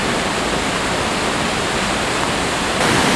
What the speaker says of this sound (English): I think that waterfall on the right would literally crush you